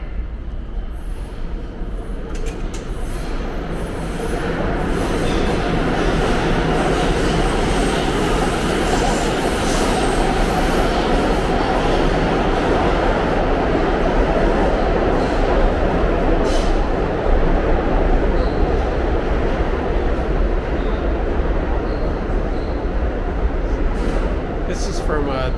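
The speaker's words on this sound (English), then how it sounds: "There is a downtown local 6 train to Brooklyn Bridge City Hall. Approaching the station, please stand away from the platform edge." A New York City subway downtown local 6 train rolls into a station bound for Brooklyn Bridge–City Hall, a broad steady roar of wheels and motors building and sustained through the whole stretch, with a platform announcement heard over it.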